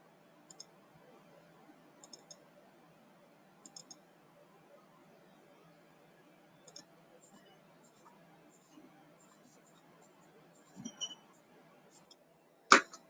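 Faint, sparse computer mouse clicks while screenshots are uploaded to an app store listing page, a few soft taps spread out over quiet room tone, ending in one louder click.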